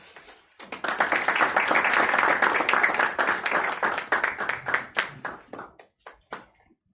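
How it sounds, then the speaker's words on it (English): Conference audience in Kenya clapping to welcome a presenter to the stage, steady and close, building quickly to a full round of applause that tapers into scattered claps. "let's put our hands together"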